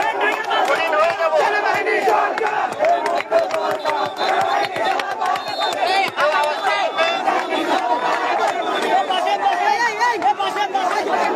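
Protesters shout slogans as a dense, loud crowd in Bangladesh's quota reform movement, a continuous mass of overlapping voices with rising and falling cries across the whole stretch.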